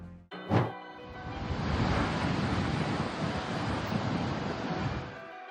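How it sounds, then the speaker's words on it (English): Monster ocean waves crash and roar at Mooloolaba Beach while Storm Alfred rages offshore, a continuous broad surf rumble with wind buffeting the microphone, opening with a brief loud gust. "Mululaba Beach is seeing monster waves as Storm Alfred rages offshore on March 3rd"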